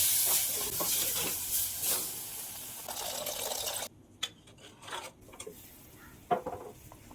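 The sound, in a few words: pouring soaked kudampuli water into a pan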